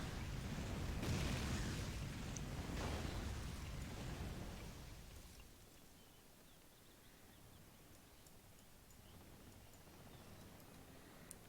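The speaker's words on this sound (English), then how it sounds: "More howitzer barrages." Howitzer barrages in the Rise of the Reds video game, a deep booming rumble of explosions that swells early and then fades into a quieter rolling background, no talk heard.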